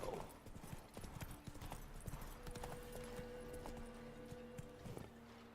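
Roach, a horse in The Witcher 3, gallops with quick repeated hoofbeats, fairly close and steady, slowing toward the end amid soft game ambience.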